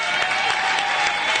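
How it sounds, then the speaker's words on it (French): A church congregation applauds together in sustained, even clapping that stays loud and dense throughout, with a faint tone ringing underneath. "je voudrais qu'on applaudisse, levez-vous pour célébrer votre homme de Dieu, Pasteur Fofi et son épouse."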